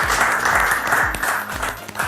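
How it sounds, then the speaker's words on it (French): An audience at a television game show applauds the two teams, a moderately loud patter of clapping over a low thumping rhythm of background music. "On les applaudit bien fort, s'il vous plaît, nos deux équipes."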